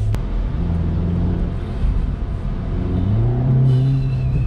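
VW Golf GTI TCR with automatic gearbox accelerating hard, a steady close engine drone that rises in pitch and loudness toward the end, with no talk.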